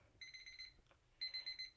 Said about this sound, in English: Timer, Deborah.